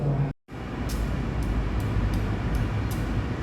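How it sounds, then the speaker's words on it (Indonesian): A Jenggala KRD diesel train pulling into track 3 of a station, a steady loud rumble of wheels and engine with regular clacks over rail joints after a brief cut near the start. "Ini kereta api Jelanggala masuk lagi di jalur 3."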